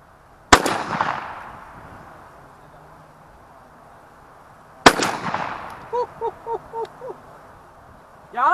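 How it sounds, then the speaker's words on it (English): A 20 gauge Benelli Legacy shotgun fitted with a Carlson Cremator choke fires two loud, sharp blasts several seconds apart outdoors, each ringing out and decaying, with a few short bird-like chirps after the second. "Fire in the hole."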